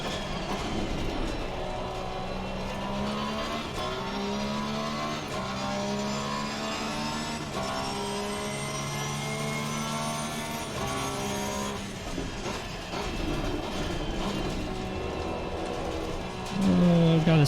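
Race car engine in a sim racing game on the Nurburgring, a steady loud whine climbing through the revs, dropping at gear shifts and rising again, continuous for the whole stretch with no talk.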